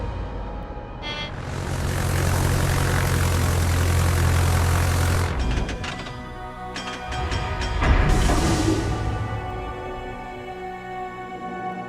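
Fighter aircraft launching in the naval battle game World of Warships, a loud propeller engine drone that swells, dips around the middle and surges again before fading into quieter engine hum.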